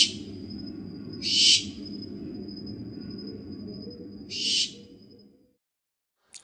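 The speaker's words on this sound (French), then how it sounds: "Deux oiseaux nocturnes et crépusculaires qu'on ne voit pratiquement jamais, l'engoulevent, qui existe aussi en Europe, et le lamentable ibijo" Nocturnal birds, a nightjar and a potoo, call at night: two fairly loud, short hooting bursts several seconds apart over a thin steady whistle and low rumbling background, ending in near silence and a brief faint note.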